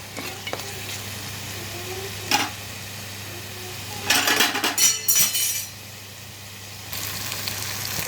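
Masala spices for a chicken curry frying in a pan with a pinch of turmeric, a steady low sizzle broken by short bursts of stirring and scraping, with a few light clinks of a utensil against the pan.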